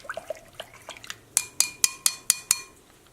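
Lye being stirred in a container until dissolved: light clinks and scrapes, then six evenly spaced sharp metallic taps of a utensil against the vessel, close and clear.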